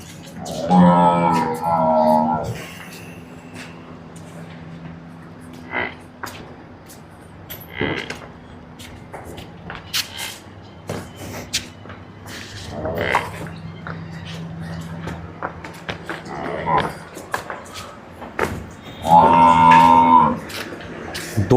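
Low bellowing moos from buffaloes come in a few separate bursts, with quieter barn noise in between.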